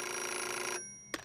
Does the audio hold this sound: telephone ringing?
yes